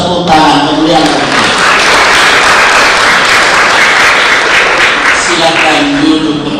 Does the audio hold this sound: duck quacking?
no